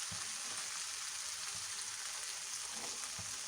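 Potato and onion frying in a pan with vegetables, a steady broadband sizzle and crackle held close and even throughout, with no voices over it.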